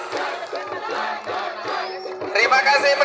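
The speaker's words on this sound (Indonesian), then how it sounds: "Beri tepuk tangan yang meriah untuk" A crowd at the 2024 ogoh-ogoh festival in Central Lampung cheers for the SB16 troupe's performance, loud shouted voices at first, then a brighter burst of cheering and clapping near the end.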